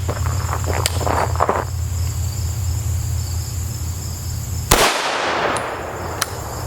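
A 9mm 75-grain CHP round fires into an AR500 armor panel and ballistics gel, one sharp, loud crack midway through, with steady cricket chirping before and after.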